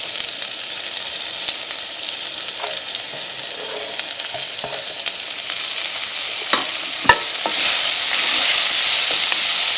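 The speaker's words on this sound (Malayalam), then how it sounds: "ഈ ചൂടായ ഓയിലിലേക്ക് സവോളയും ഇഞ്ചിയും പച്ചമുളകും കറിവേപ്പിലയും ചേർക്കാം." Onion, ginger, green chili and curry leaves hit hot oil for an ivy gourd curry, a steady close frying hiss with scattered crackles and pops that swells louder near the end, no voices.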